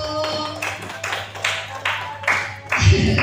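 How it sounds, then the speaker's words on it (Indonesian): Students in a Year 7 classroom clap together in several uneven bursts, fairly close and moderately loud, with a hum running underneath throughout. "tepuk tangan untuk"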